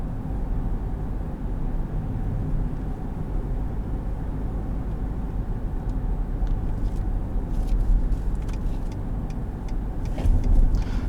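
A 2018 Ford F-150 Sport EcoBoost pickup in sport mode gives a steady low engine and road rumble, a continuous drone that swells slightly near the end, with no voices.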